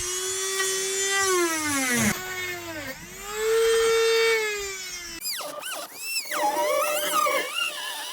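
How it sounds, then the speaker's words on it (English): A Dremel rotary tool whirs loudly while cutting a custom car center console part, its high pitch sagging and rising as the bit bites into the material, then wavering through several bursts near the end. "love the Dremel."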